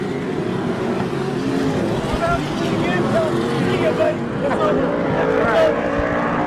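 Stock car engines roar and accelerate hard around a race track at a Veterans Day Classic event in Porterville, California, a loud continuous drone with a race announcer talking over it.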